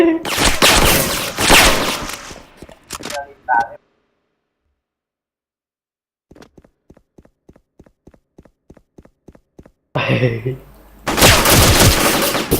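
Video game gunfire in a church setting: dense bursts of loud shots at the start and end, separated by a quiet gap and a steady run of evenly spaced single shots, with players shouting over the shooting.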